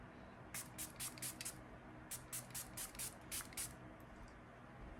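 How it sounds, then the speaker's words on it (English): Cream Powder Melt Glass setting spray hisses from a pump bottle in quick rhythmic spritzes, a burst of five then a pause and another run of six or so, faint and close with no voices. "This is the Cream Powder Melt Glass Setting Spray."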